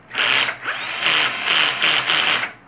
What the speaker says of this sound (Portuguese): É parafusadeira, furadeira normal e de palito também.